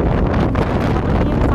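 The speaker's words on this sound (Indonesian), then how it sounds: "saking kencengnya angin di sini" Strong wind blowing through a snowy place near Ouchi-juku in Fukushima, Japan, buffeting the microphone with a loud, constant roar.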